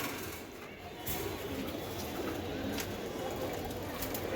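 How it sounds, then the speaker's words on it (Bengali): A pair of pigeons coo softly in a loft, their low murmurs half buried in steady broadband background noise. "এই আরেক পেয়ার কবুতর"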